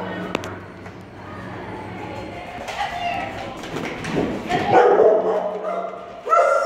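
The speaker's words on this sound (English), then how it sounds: "What a lovable dog." An elderly dog barks and yips close by with a few whimpers, in short uneven bursts, while people talk around it in a home setting.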